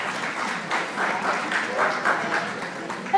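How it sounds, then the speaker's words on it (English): Steady applause from a concert audience fills the clip, a continuous wash of clapping at moderate volume throughout. "Let's give her a big round of applause."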